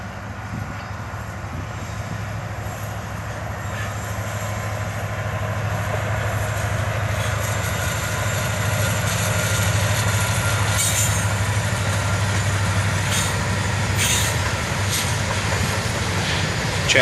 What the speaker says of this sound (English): A Norfolk Southern train led by an SD70 ACC and an ES40 DC